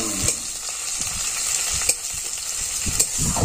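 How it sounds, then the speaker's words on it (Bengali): Chopped onion sizzles in hot mustard oil in a pan with whole cumin, dried red chilli and bay leaf, a steady close frying crackle broken by a few sharp metallic scrapes of a stirring spoon. "এবার দিয়ে দেব পেঁয়াজ কুচি"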